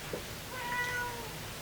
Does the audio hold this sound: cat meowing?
yes